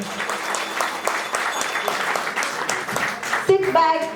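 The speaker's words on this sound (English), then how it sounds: "So let us all welcome them with a huge round of applause" A sizable audience claps steadily throughout, a dense crackle of hands with some crowd murmur beneath, and a few brief tonal sounds surfacing near the end.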